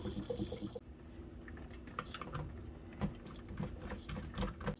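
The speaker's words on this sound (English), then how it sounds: "I've got a metal strainer and a straining bag that's finer mesh, so that should strain out all of the solids" Citrus-steeped vinegar pours through a metal strainer and a finer-mesh straining bag, a steady close-up trickle and splash dotted with small clinks and taps, no voices.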